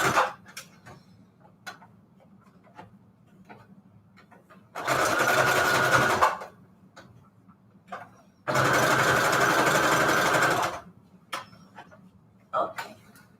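A sewing machine stitches fabric and lace onto manila tags in two bursts of steady, fast whirring close by, each lasting about two seconds, separated and surrounded by quiet ticks, clicks and handling noises.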